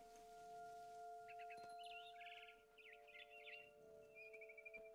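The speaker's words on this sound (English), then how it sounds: "Then I heard chirping outside my window. It was a barn swallow going back to her nest." A barn swallow chirps in What Remains of Edith Finch, a faint run of quick twittering notes over a steady hum and soft outdoor ambience.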